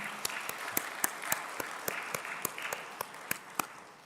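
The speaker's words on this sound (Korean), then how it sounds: "박수로 맞아주시면 감사하겠습니다." Congregation in a Sunday evening church service claps to welcome a speaker, with soft steady crowd clapping punctuated by a few louder, regular individual claps near the microphone.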